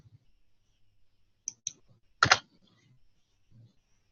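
A few separate computer mouse clicks on a library catalog page, two light taps followed by a sharper, louder click, close and quiet with no talking.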